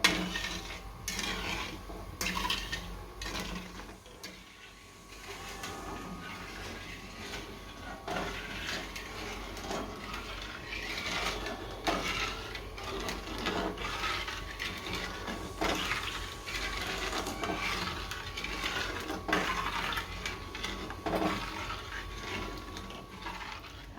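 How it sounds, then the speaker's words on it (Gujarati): Boiling milk for coconut laddoos is stirred steadily in a pan, a long run of scraping and clinking of a spoon against metal, moderately near, with a faint bubbling background. "અને સતત હલાવ્યા કરવાનું, કેમ કે બેસી ન જાય અને દૂધ ઉભરાય નહીં"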